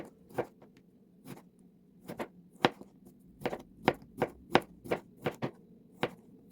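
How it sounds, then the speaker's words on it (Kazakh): Beetroot sliced into thin strips with a knife for a fruit compote, about a dozen sharp, close chopping strikes landing on a board in an uneven rhythm with no talking. "Қызылшаны да дәл солай алманы турағандай етіп, жіңішкелеу етіп тураймыз."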